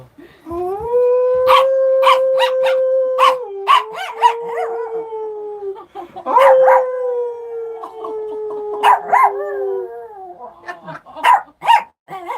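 A pet dog howls in long, drawn-out wavering notes, several sustained howls in a row that break into short yips and barks near the end, loud and close in an indoor room.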